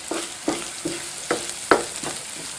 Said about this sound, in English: now you get a beautiful aroma of ghee and asafoetida and cumin seeds and ginger frying here.